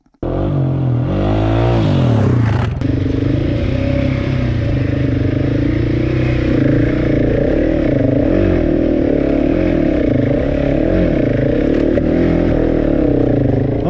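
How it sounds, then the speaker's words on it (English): A motorcycle on rocky, muddy backcountry terrain during a winter camping trip on the Arizona Backcountry Discovery Route. The engine starts and then runs steadily, loud and close, with a brief clatter early on. "I went to start my bike"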